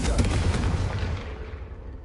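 A Confringo spell explosion in a Harry Potter video game lands as a loud, close blast with a heavy low rumble that fades away over about two seconds.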